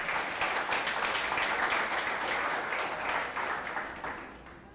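A church congregation applauds for Jesus at the end of a prayer, a dense, steady wash of many hands clapping that holds for several seconds and fades slightly at the close.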